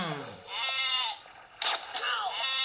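Sheep bleating fired as ammunition in a shooting video game, two or three wavering bleats close and loud, one at the start and more after a sharp burst near the middle.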